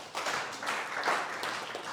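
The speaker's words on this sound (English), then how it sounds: "Clap for all of you." An audience at a leadership seminar claps together, a dense, steady wash of applause from a room full of people, moderately loud and with no speech over it.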